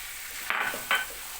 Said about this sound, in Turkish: Kıyma iyice kavruldu. Çıkır çıkır ediyor.